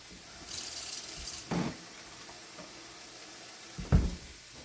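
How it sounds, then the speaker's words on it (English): A splash of water goes into a hot pan of nacho topping, giving a short hiss and bubbling with a couple of louder splashy bursts over soft background sizzle. "Might have to put a little splash of water in here."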